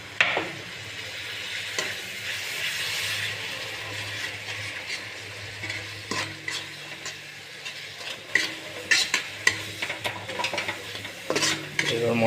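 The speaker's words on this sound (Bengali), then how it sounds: "হালকা জল দিয়ে এটাকে মশলাটা একটু নেড়ে নেব" A spoon stirs rui fish masala with a little water in a pan, scraping and clinking in uneven bursts over a soft sizzle.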